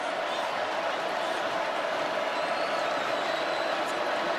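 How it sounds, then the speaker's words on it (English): Steady, dense roar of a large football stadium crowd at an SEC Championship game between LSU and Georgia, loud and continuous with no clear breaks, and no voices standing out above it. "Georgia crowd still making some pretty good noise in here."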